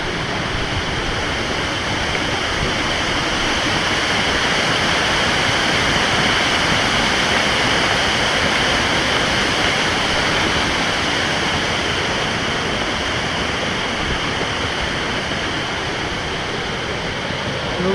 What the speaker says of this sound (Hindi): तो ये काफ़ी गहरा वाटरफॉल है एंड हाइट भी ज़्यादा है इसका।